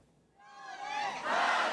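Rising crowd of shouting, jeering voices in the National Assembly plenary chamber during an impeachment vote, swelling from quiet into a loud, dense roar of many people yelling at once.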